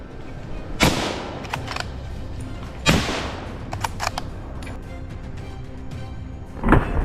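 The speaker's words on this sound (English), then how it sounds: "The gunshot rang out, decisive and cold, taking down the aggressive creature with precision." Rifle shots on a wild boar hunt come as sharp, loud cracks, three spread across several seconds, with smaller clicks and knocks between them and steady outdoor background, no talk.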